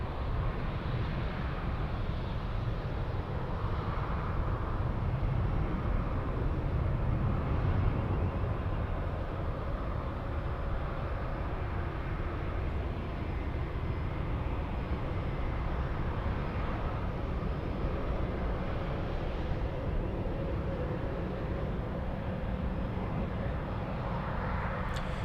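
KLM Cityhopper airliner at Munich airport, its steady jet engine roar filling the air as a broad, constant rumble that stays loud and even throughout without talk.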